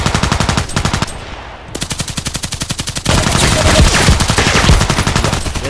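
An H&K MP5SD6 set to single shot fires in the shooter game Contract Wars, producing a loud, close, fast and evenly spaced string of shots that continues almost without a break.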